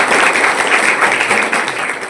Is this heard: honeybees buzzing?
no